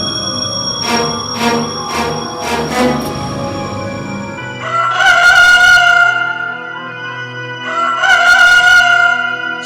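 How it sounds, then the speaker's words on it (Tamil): A rooster crows, at least two long crowing calls ringing out clearly with short pauses between, alongside a string of earlier bright tones during a Way of the Cross light and sound programme at a shrine. "சேவல் கூவுமுன்"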